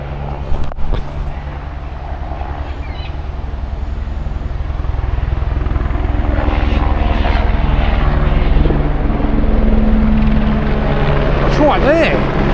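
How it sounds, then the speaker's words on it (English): A helicopter roars loudly overhead, its thumping rotor and engine noise building and holding steady throughout. "I don't know where that helicopter is, but it's very loud."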